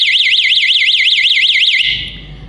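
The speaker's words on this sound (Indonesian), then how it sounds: "saat banjir, air akan naik dan mengenai sensor, maka alat ini akan berbunyi dan memberitahu warga sekitar" A flood lahar sensor alarm sounds loud and close, a steady warbling electronic siren rising and falling in even cycles before it cuts off and leaves a low background rumble.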